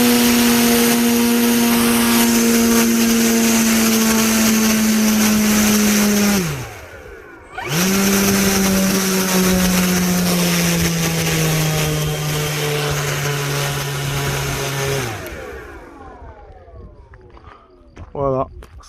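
Electric motor and propeller of a Grand Tundra AVIOS 1700mm 6S RC airplane scream at full throttle, loud and close, cut out briefly, then whine back up and slowly wind down before stopping.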